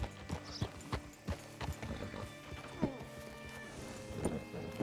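Horse hooves clop in Red Dead Redemption 2 as a rider walks a horse up to a hitching post, with irregular, close hoofbeats over a quiet ambient bed.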